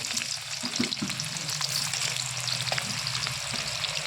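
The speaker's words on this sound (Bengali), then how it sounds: "একটা কুচনো পেঁয়াজ রেখেছি, আমি এই গরম তেলের মধ্যে দিয়ে দেবো।" Chopped onion fries in hot oil with spices, a steady close sizzle with faint stirring, continuous and fairly quiet, with no voices.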